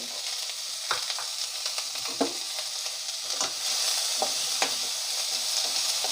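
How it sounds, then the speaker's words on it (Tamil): Masala sautéing in sesame oil for country chicken soup gives a steady close sizzle, with intermittent scraping stirs of the spoon through the pan and no talking. "நான் இன்றைக்கி மசாலா வதக்கிறதுக்கு நல்லெண்ணெய் தான் சேர்த்துருக்கேன்"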